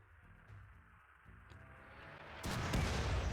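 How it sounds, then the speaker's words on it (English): Mortar fire in the game Rimworld: faint muffled thumps early, then a loud sudden blast near the end that leaves a broad, sustained roar, no talk. "I'm trying to shoot mortars at them to make their life miserable."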